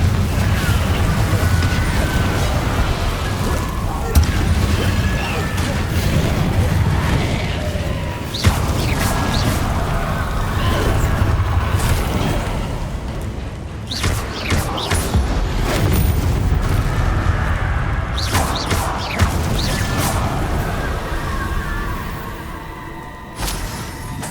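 Confringo spell blasts in Hogwarts Legacy, several booming bursts and crashes over a dense, loud rumbling game background, with sharp impacts at irregular intervals.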